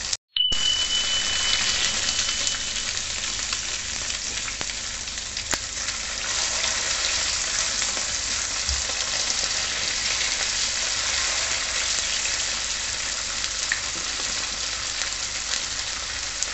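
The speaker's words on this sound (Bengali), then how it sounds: "এটাকে একটু ভালো করে প্রথমে এপিট ওপিট করে লাল লাল করে ভেজে নিতে হবে।" Pieces of katla fish fry in plenty of hot oil with a loud, continuous crackling sizzle that stays close and even from start to finish, with no voices.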